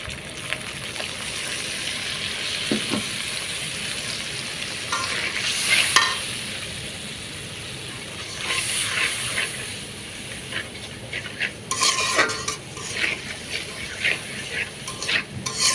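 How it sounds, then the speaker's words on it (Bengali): Spice paste of turmeric and other ground spices cooked down with a little water in a pan for a fish and bean curry, a steady close sizzle and hiss with repeated scraping stirs, no talking. "আমি মশলাটাকে একটু পানি দিয়ে কষায় নিব।"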